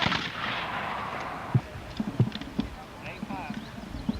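Civil War reenactors fire muskets at an outdoor 1994 bicentennial event, heard as scattered, sharp distant pops over shouted commands and the murmur of a crowd.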